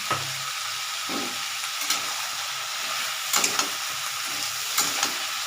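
Vegetables hiss and sizzle steadily in a hot pan while a utensil scrapes and stirs at irregular intervals.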